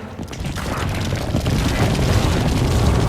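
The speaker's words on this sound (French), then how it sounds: "J'active la bombe." A bomb detonates in a video game, a loud, rumbling blast that swells and holds as a sustained roar across the whole moment, with no voices over it.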